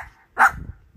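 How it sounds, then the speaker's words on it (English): A tiny poodle gives a single sharp, fairly loud bark that stands alone against a quiet room. "Bark if you want to go outside."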